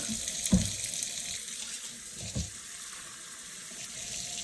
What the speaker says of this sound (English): Okay, so now we've got the water running and it is as hot as it can get.